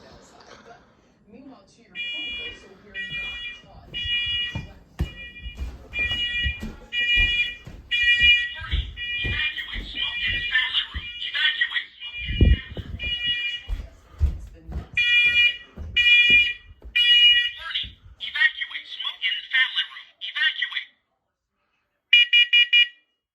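A smoke alarm under a daylight saving time test gives loud, repeated high-pitched beeping in rapid bursts, running nearly throughout with brief gaps and a final burst after a pause, while people talk between and under the beeps.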